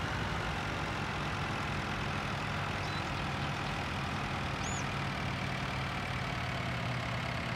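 Steady drone of a tractor engine coasting off throttle in Farming Simulator 19, a constant low hum at even loudness with no voices.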